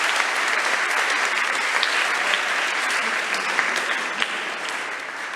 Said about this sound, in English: give them a big round of applause for supporting Elevate in the venture